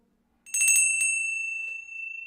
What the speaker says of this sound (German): ein Glockenschlag.